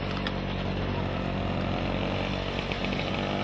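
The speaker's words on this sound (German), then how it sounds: "Der Motor schnurrte und jetzt stand England nichts mehr im Wege." A small moped engine, recently fitted with an old spare V-belt, runs close and loud in a steady, unbroken buzzing drone with a rough two-stroke rasp.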